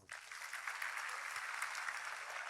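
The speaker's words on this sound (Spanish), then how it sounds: "Un aplauso al Señor." Applause during a Spanish-language Christian church service, a steady wash of clapping from the congregation that sustains evenly for a couple of seconds at moderate, somewhat distant level.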